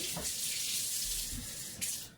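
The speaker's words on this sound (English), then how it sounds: "Oh, 3 tablespoons of water. So put that in." Water pours from a container into a bowl of Cloud Nine brownie batter, making a continuous splashy hiss for about two seconds before it cuts off.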